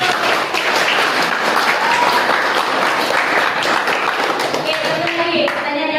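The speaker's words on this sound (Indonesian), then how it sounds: "Oke, tepuk tangan dong buat Riko." Classroom applause for a student, steady clapping from many hands for the whole stretch, with a few young voices faintly mixed in.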